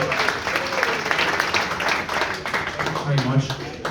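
Audience applause at an Irish National Foresters gathering as the High Chief Ranger is welcomed to the podium, a steady dense clapping that carries through the whole stretch with some voices mixed in.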